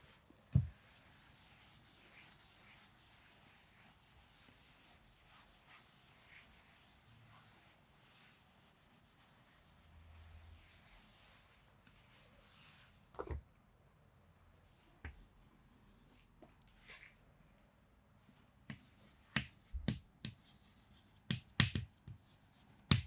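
Someone writes on a board during a lesson, giving scattered scratchy strokes and taps that are close and fairly quiet. Bursts come in the first few seconds and again near the end, with quieter stretches between.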